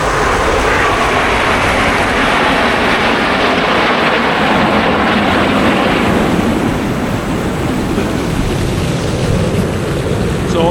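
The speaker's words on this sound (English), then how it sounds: "let's see if we can get the planes again" Airplanes fly overhead, making a loud, continuous broadband roar that fills the whole stretch with a steady, rumbling intensity and no clear breaks.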